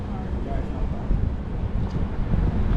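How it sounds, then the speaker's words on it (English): Steady wind gusts buffet the microphone at a Caribbean rental with a view, in a low, rough rumble, and a voice is heard under it. "A little bit windy"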